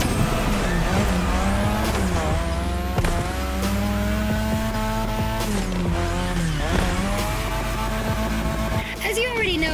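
Car drifting on a drift track in The Crew Motorfest, set in Japan: a loud, close engine revving and shifting, with long tire squeals and skids running continuously and a voice speaking over it.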